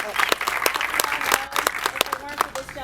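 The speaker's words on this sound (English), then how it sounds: "I also want to give another round of applause to Mr. Adam Rocha." Audience applause at a 2013 fan panel, scattered clapping from a crowd with distinct individual claps, mixed with voices talking over it.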